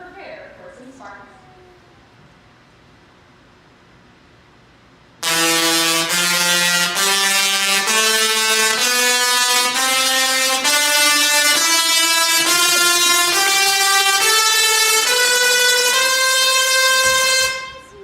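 Tesla coils discharging inside a science museum show, a loud buzzing electric roar that starts abruptly after quiet murmuring and holds steady for about twelve seconds, its pitch stepping upward like a played tune before cutting off.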